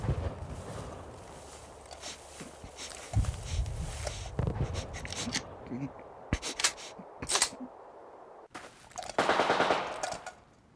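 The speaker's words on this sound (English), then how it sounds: "That was a Kraut machine gun pistol." A German machine pistol fires in a war scene, with bursts of rapid automatic gunfire and sharp single cracks scattered among footsteps and clatter, moderately close, with voices talking in between.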